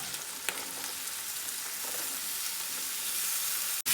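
Ridge gourd pieces stirred in a frying pan give a steady, close sizzle with faint scraping of the spoon throughout, then a brief dropout near the end, and no talk.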